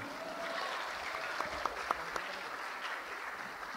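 Audience clapping at a Quran quiz final of a national Quran recital competition, a steady dense wash of applause with a few sharper individual claps standing out partway through, moderately faint and continuous.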